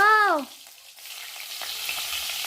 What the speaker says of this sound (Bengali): আর একটু কালো জিরে ফোড়ন দিলাম